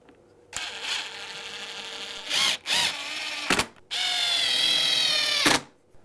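A power drill drives long screws into a deadbolt strike plate during a door lock install, several loud whining bursts of varying length, the longest lasting over a second, with brief pauses between.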